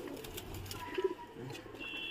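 A pigeon at a rooftop loft in Moradabad gives a soft, brief coo against a faint background of other birds and ambient noise.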